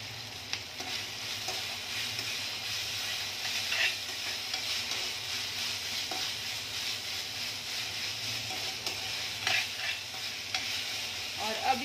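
Capsicum stir-fried on high heat in a pan gives a quiet, steady sizzle with soft scraping and stirring throughout.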